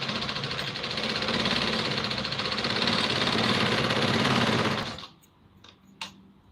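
A sewing machine stitches a Patiala salwar in one fast, continuous whirring run that stops abruptly, followed by a couple of faint clicks.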